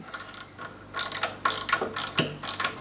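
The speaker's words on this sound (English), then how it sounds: "so now we just got to tighten everything up, and we're sweet" Ratchet tightening bolts on a Harley-Davidson Dyna crash bar, with rapid clicking pawl bursts in repeated strokes, close and clear, over a faint steady whine.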